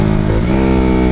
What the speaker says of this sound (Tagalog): Kasi napag-aralan ko paano paputokin yung tambutso niya